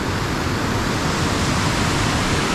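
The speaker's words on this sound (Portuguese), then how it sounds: "Olha aí o rio Mambucaba. Aqui já começa a queda" Mambucaba river rushing beside a trail just above a waterfall, a loud, steady broadband roar of churning water that holds unbroken throughout, close by and with no voices.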